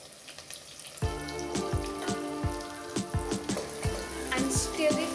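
Onions, cashews and capsicum frying in a pan for chicken masala, a loud crackling sizzle that starts suddenly and runs under repeated clanging strikes of a metal spoon against the pan.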